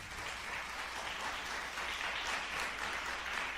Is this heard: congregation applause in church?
yes